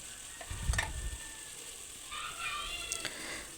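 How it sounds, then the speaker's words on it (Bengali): Spice paste sizzles quietly in a pan while a spoon scrapes and stirs it in a few short bursts, the frying faint and close. "আমি মশলাটা কষিয়ে নিচ্ছি। যতক্ষণ মশলা থেকে তেল না ছাড়বে ততক্ষণ আমি মশলাটা কষিয়ে নেব।"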